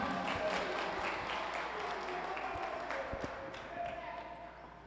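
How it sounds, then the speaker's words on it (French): Quiet applause from a school quiz-show audience for two players at a small final between Collège Toussaint Louverture and Lycée National Dutty Boukman, soft scattered clapping with a murmur of voices. "On applaudit les 2 joueurs."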